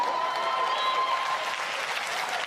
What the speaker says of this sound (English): You can clap, it's the truth.